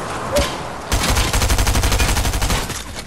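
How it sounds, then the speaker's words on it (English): Sniper gunfire in a Jurassic Park video game plays as a fast, regular train of loud, close shots for about two seconds. A single shot comes just before the burst. "Where are the sniper shots coming from?"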